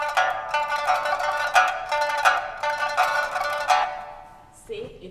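Drums open the Chinese piece Dragon Boat with sharp, regularly spaced strikes over sustained bright instrumental tones, played fairly loud, then fading out near the end.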